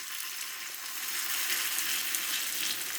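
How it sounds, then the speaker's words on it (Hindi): Potato tikkis made from raw grated potato fry in oil over a slow flame, giving a steady close sizzle and crackle that continues with no voices. "इसी तरह ही आप सारी टिक्कियाँ फ्राई कर लें"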